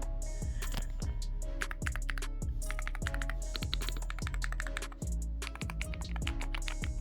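Fast typing on a NuPhy Halo 65HE keyboard fitted with metallic jade switches, a dense run of close, crisp keystrokes with occasional heavier thocks, no voices.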